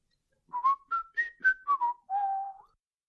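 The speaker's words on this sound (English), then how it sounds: "And here is what whistling is." A person whistles a short, clear melody of about eight notes, ending on a longer held tone, alone and close.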